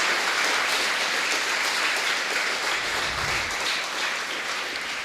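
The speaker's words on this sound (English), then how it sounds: "We can give him a big round of applause" Dense, sustained applause from a large audience fills the whole stretch, steady and loud with no talking over it.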